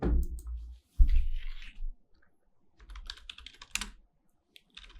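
Bursts of rapid clicking keystrokes from a computer keyboard as code is typed for a React JS project, close and fairly loud, with short pauses between flurries and no talking.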